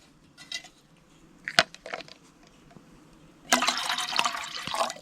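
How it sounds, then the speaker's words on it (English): Water poured into a small pot on a solo camping stove, preceded by a few light metallic clinks and knocks, then a steady close splashing pour lasting over a second. "So I'm only going to do a little bit over a cup of water for dinner"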